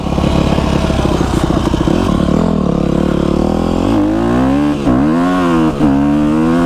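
A dirt bike engine close by, starting up rough and then revving repeatedly, its pitch climbing and dropping in several loud surges.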